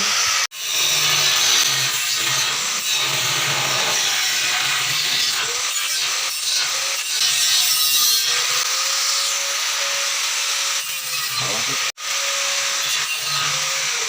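A power saw cuts through a Conwood fiber-cement board during minimalist stair building, a loud sustained whining grind running for over ten seconds, starting and stopping abruptly at the ends.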